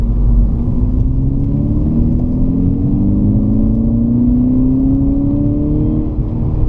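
A VW MK6 GTI engine pulls hard on a back road from inside the cabin, a loud, even drone whose pitch climbs steadily through the rev range with no pauses.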